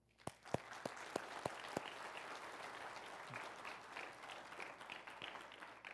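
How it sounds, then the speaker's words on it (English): A church congregation breaks into applause at a morning service, opening with several sharp, distinct claps before swelling into steady, sustained clapping from many hands that holds to the end. "I'd like to give our teens and those who contributed money a round of applause."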